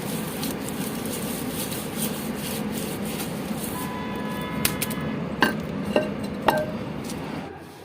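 A dirty water vessel is scrubbed clean at home with steady rubbing and rasping strokes, followed by a few sharp clinks and knocks of the container near the end, no talk.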